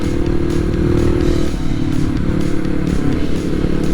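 Motorcycle engine droning steadily and loudly at close range while riding downhill on a winding mountain road from Khao Khiao toward Pak Chong, with a constant rumble and slight wind noise throughout.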